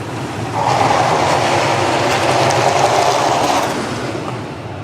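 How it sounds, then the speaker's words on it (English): A roller coaster train, El Toro at Six Flags Great Adventure, roars steadily along its track as it crests hills, a sustained loud rumble with a faint clattering texture that holds for several seconds before easing slightly. "the sound that El Toro makes as it's cresting hills and stuff"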